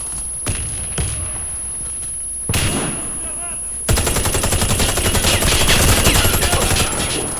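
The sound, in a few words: shotgun firing in a video game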